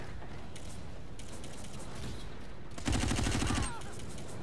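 Rapid automatic gunfire from a Black Ops 3 match, a burst of evenly spaced shots lasting under a second over a constant background of game noise and scattered fainter shots.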